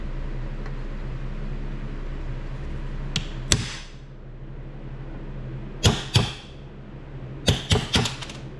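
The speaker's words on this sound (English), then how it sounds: "I'm going to use my tapered punch first just to start it, and then I'll use a smaller one to pop it out." Roll pin being tapped out with a tapered punch and hammer on a John Deere E100 series mower, several sharp metallic strikes in small clusters over a low steady hum.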